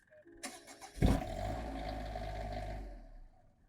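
The generator on a 2026 Newmar Canyon Star motorhome primes with a quiet whir, then cranks with a sharp thump and settles into a steady low engine rumble before it fades.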